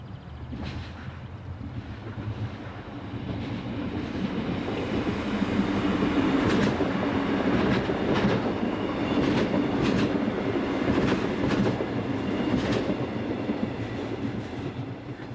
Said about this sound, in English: Local passenger services are almost exclusively in the hands of the common Class 628 diesel